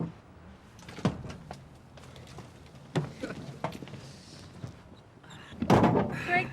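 Car doors thunk shut on a classic Dodge Charger on a hot day, several dull knocks spaced a few seconds apart, with a louder, fuller slam near the end and quiet background between.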